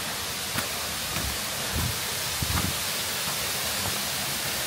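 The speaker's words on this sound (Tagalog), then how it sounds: "Narinig yung tubig, yung lagas-gas." Water rushes steadily from a waterfall at an abandoned resort, a dense, even wash of noise that holds without a break, with a few soft low thumps beneath it.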